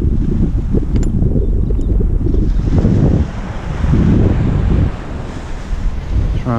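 Strong wind buffets the microphone and surf roars on a beach at Pensacola, Florida, a loud continuous rumble with gusts that rise and fall.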